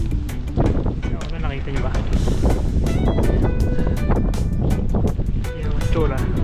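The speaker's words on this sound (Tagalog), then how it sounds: "Sobrang lakas ng hangin." Strong wind buffets the microphone during a mountain bike ride in Calgary, Alberta, Canada, a loud continuous rumbling roar that persists throughout while someone talks over it.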